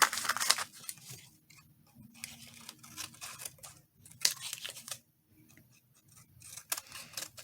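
Scissors snipping around a playing card, several bursts of crisp close cuts separated by short pauses, with faint paper handling between them.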